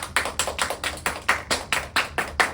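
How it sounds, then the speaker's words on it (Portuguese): A group claps in a steady, even rhythm during a Bible lesson on the Trinity, with about a dozen sharp claps evenly spaced across the moment, close and moderately loud, and no talking over them. "Palmas pro Espírito Santo, gente!"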